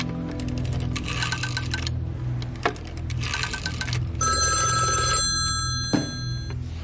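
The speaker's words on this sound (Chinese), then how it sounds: "电话。" An old-fashioned telephone in a 1949-era setting rings with a bright bell in repeated bursts separated by short pauses, loud and close in a quiet room.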